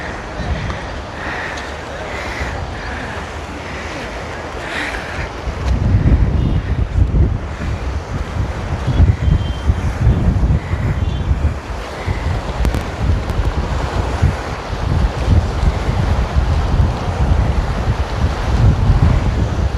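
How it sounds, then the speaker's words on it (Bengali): Strong wind roars across the open reservoir shoreline at Srisailam, with loud gusty rumble buffeting the microphone throughout and surging louder after the first few seconds, waves faintly beneath, while people talk intermittently. "দারুণ হাওয়া, দারুণ হাওয়া"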